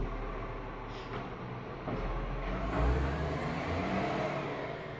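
A rubbish truck collecting bins outside grinds and rumbles with a low heavy engine drone and hydraulic whine, rising in a surge near the middle and continuing steadily, fairly distant with no one speaking.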